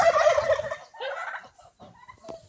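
Young turkeys gobble close by in two quick rattling bursts, then quieter scattered calls and a short chirp, with no one speaking.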